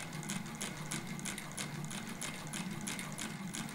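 An antique Improved Taylor sewing machine stitches through thickening layers of fabric with a steady, fast mechanical clatter of needle and gears, close and continuous, with no talking.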